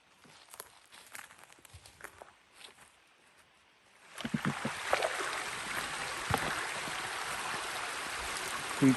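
Creek water flowing near a rural property, quiet scattered rustles and footsteps at first, then a steady close burble and rush of water that continues to the end.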